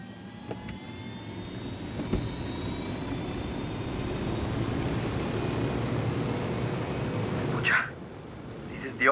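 An aircraft engine in the open-world shooter Ghost Recon Wildlands drones steadily at moderate volume, rising slightly, then drops abruptly near the end; faint voices occasionally sound underneath.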